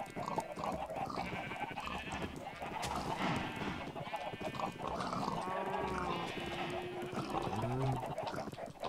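Pigs in the Minecraft video game being herded, their grunts and squeals mixed with livestock-like calls throughout under continuous game background sound.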